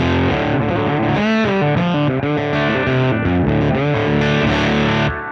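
A mahogany lap steel guitar plays a continuous, loud phrase of sliding notes through a breaking-up overdrive pedal, gritty and sustained throughout with no pauses.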